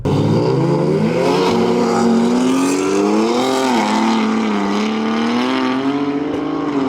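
A fast Opel Corsa drag car accelerates hard, its engine roaring loudly and steadily as the pitch climbs and wavers across several seconds, with no talking.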